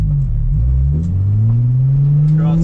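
Car engine revving under throttle while drifting, a loud, close, sustained drone that rises steadily in pitch as the gas is held, with faint voices under it.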